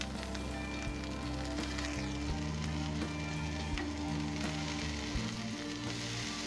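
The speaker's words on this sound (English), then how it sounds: "Turn and roll the rice from upside down till it is fried properly." Jeera rice frying on high flame in a pan, giving a steady, dense sizzle that carries on evenly throughout, with a few faint clinks and stirring sounds mixed in.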